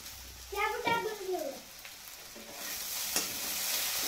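Soaked sago pearls for sabudana khichdi are tipped into a hot pan and stirred, with a soft scrape followed by a steady, building sizzle, and a brief high voice-like cry near the start.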